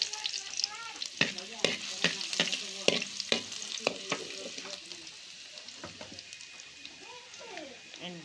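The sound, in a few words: garlic being sautéed in a pan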